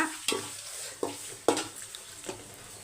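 Tomatoes cooking down in a pan make a soft, steady sizzle, broken by four or five distinct scrapes of a spoon stirring against the pan, heard close and alone.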